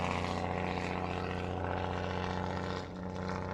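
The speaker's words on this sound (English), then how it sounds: "Very noisy truck on the road near me over there." A noisy truck on a nearby road gives a loud, steady engine drone that holds almost unbroken throughout, with no talking.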